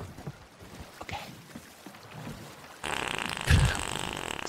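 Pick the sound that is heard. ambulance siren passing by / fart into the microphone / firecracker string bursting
fart into the microphone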